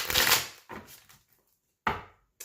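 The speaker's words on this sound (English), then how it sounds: "Let me give it a few quick shuffles" Tarot deck shuffled by hand in a few quick bursts: a loud riffle, a softer second pass, then a short sharp flurry after a pause, close and alone.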